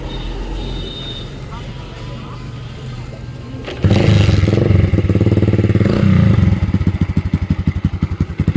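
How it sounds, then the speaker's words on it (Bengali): A motorcycle engine, recently fitted with a replacement exhaust silencer, starts with a sudden loud burst and then runs close by with a rough, pulsing idle that thumps rhythmically as it settles. "তো গাড়ির সাউন্ড দেখতে পাচ্ছ কিরকম লাগছে গাইস গাড়ির সাউন্ড"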